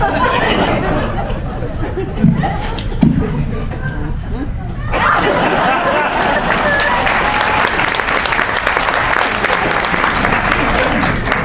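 A crowd at a stand-up comedy show applauds after the set. A few claps and some laughter and chatter come first, then the clapping swells around the middle into loud, continuous applause that fills the rest.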